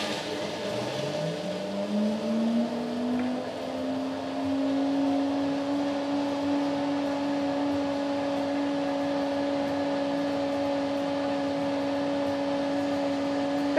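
A blender motor whirs up to speed blending an iced cocoa drink and settles into a steady, loud humming drone that holds for several seconds.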